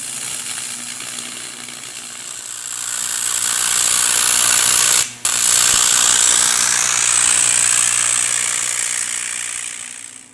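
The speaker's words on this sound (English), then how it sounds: "Scott Etheridge here at RRC is going to TIG weld the end to the unit." TIG welding the end of a fabricated console block-off plate: a loud, steady, hissing arc buzz that runs continuously for about ten seconds, cut by a brief break near the middle, with no talking.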